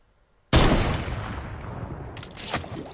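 A sudden burst of rapid gunfire in Fortnite erupts after a brief quiet, rattling on loudly with a second flurry of shots near the end.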